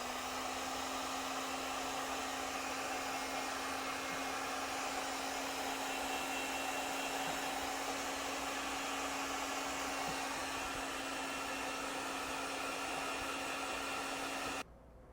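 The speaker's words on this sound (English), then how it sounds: "if you do use these to seal up the ends, you just use a heat gun" A heat gun blows with a steady, close whirring hum and airy hiss, unbroken for about fifteen seconds while sealing heat-shrink wire connectors, then cuts off abruptly.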